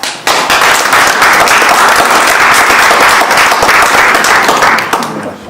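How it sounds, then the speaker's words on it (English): A meeting-room audience at a local liaison forum claps together in a dense, loud burst of applause that lasts about five seconds and then fades. "please clap now"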